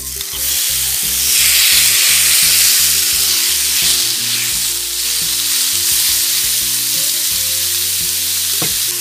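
Chicken fries in coconut oil on a cast stone griddle with a loud, continuous close-up sizzle, and low knocking thuds sound beneath it.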